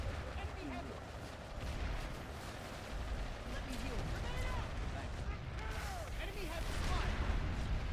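Dense video game gunfire and booming explosions fill the scene continuously, loud and chaotic, with pitched whooshing effects weaving through the barrage.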